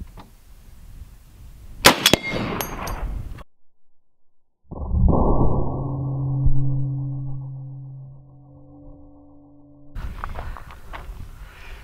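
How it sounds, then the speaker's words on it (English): Rounds from an A-10's 30 mm cannon: a sharp loud burst near two seconds, then after a silent gap a sustained roaring buzz with steady tones lasting several seconds, fading into outdoor ambience. "Wow, all those three rounds came out."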